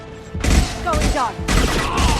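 Gunfire in the Mass Effect 2 video game: dense bursts of loud, near shots in two heavy volleys, with a synthetic whine riding through the middle.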